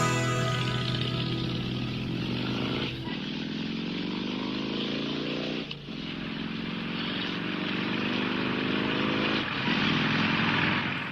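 Motorcycle engines roar loudly and continuously, their pitch climbing in repeated revving sweeps with brief dips between them, heard alone with no talking.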